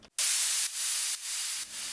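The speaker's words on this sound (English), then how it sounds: "just an impact of white noise and a cymbal crash that is sidechained and automated" A synthesized white-noise impact layered with a cymbal crash for a dance track, a loud broadband wash that pumps down and swells back roughly every half second in sidechained, automated pulses, alone with no voices.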